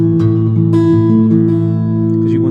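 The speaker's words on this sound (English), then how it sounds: "and so when you play that at full speed, it sounds like this" Acoustic guitar played fingerstyle in a steady Travis picking pattern at full speed, a bass thumb alternating under plucked treble strings, close and clear with ringing sustained chords and no talking.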